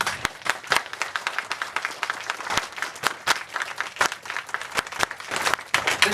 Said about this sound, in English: I'd like you to give them a clap anyway